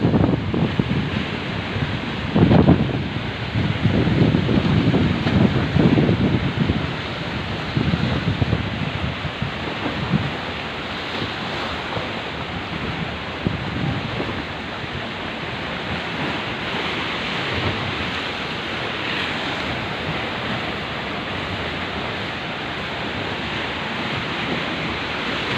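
Strong sea waves and gusting wind buffet the microphone at a ferry pier in stormy, overcast weather, a loud continuous roar of surf and wind noise lasting throughout with no voices.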